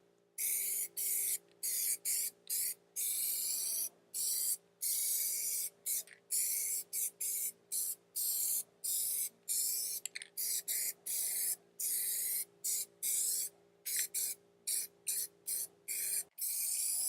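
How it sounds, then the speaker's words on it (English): Repeated bursts of aerosol spraying as PlastiDip rubber coating is sprayed on a car wheel, short hissing pulses separated by brief pauses, close and steady over a faint constant hum. "we're going to do the same thing when we spray the wheel"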